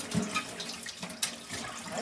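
A container is washed under a running kitchen tap: water gushes and splashes steadily with a few clinks, close by, for about two seconds.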